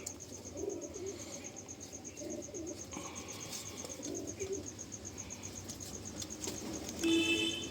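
A male Kalanka pigeon coos softly in a home loft, its low murmuring calls faint and intermittent over a steady high insect drone, with a slightly louder coo near the end.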